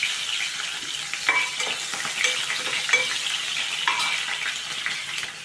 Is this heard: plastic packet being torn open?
no